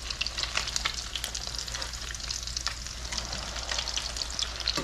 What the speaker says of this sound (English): You want to do these in a pan.